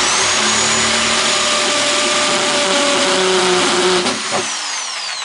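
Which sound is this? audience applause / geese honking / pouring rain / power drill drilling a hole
power drill drilling a hole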